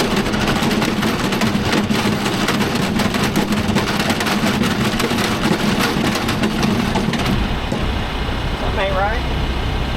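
Tractor running a brush hog with its PTO shaft turning, a steady loud mechanical drone with continuous rumble and clatter; the machine noise fades near the end as a voice speaks briefly.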